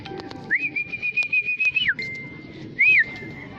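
A bird calls outdoors beside a road, a sustained, even whistled tone followed by a shorter rising call, fairly clear over faint background noise with no talking.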